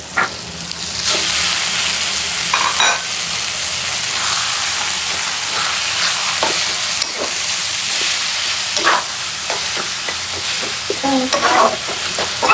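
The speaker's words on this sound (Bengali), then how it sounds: "এখন হচ্ছে শাকটা বাগার দিয়ে ফেলবো।" Leafy greens tempered with dried red chillies and stir-fried in a hot pan make a loud, hissing sizzle, broken by repeated scrapes and clatters of a spatula against the pan.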